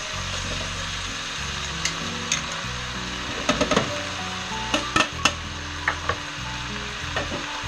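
Pork pieces for osso buco fry in a pan with a steady close sizzle, broken by several sharp scrapes and clinks of a utensil moving food around.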